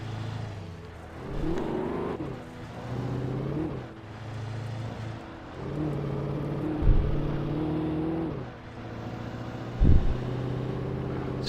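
A car in the video game Alan Wake drives along, its engine revving and easing off in repeated waves, with a couple of sharp thumps near the end.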